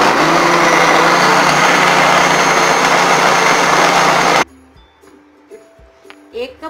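A mixer grinder blending mango and ice cubes whirs loudly at high speed for several seconds, then cuts off abruptly, leaving quiet clinks and soft movement.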